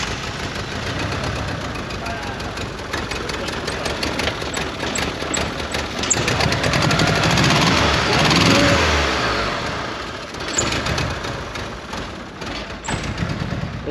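Worn Mitsubishi Eclipse engine from a barn-find restoration starting up and running rough, loud and close with an uneven, misfiring idle that swells and sags, with people talking around it.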